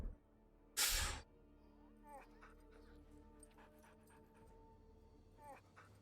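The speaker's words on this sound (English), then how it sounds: "What a weird noise for a dog to make." A dog makes odd, high whimpering and yipping noises in short repeated bursts, fairly quiet against a low background hum, after one loud sharp burst near the start.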